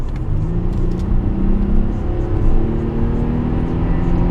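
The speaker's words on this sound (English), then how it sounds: "this car's so fast" A fast car accelerates hard down a straight, its engine a loud, steady, rising drone heard from inside the cabin with no voices over it.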